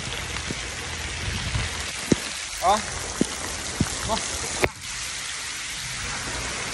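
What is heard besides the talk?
heavy rain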